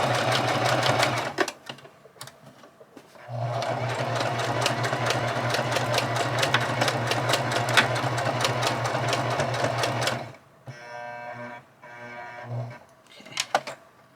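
A sewing machine stitches a junk journal page in loud, close bursts: a short run, a brief pause, then a long steady whirring run of about seven seconds before it stops and a few clicks and short spurts follow.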